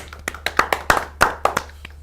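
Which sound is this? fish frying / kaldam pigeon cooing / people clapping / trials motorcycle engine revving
people clapping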